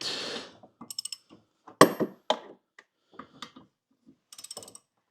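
Breaker bar working loose the blade bolt on a lawnmower, giving sharp metallic clicks and a few heavy clunks in short bursts separated by silence, close by, with a brief voice at the start.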